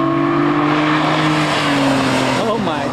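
1998 Lamborghini on a road, its engine a loud steady drone with a sustained tone that holds up close, then a rising sweep as the car passes or changes pitch near the end; people talk over it.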